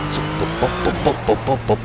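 RUF CTR3 SMS-R supercar accelerating on the Azure Coast circuit in Project Cars, engine tones rising and dropping through repeated quick gear shifts, loud and close with someone talking over it.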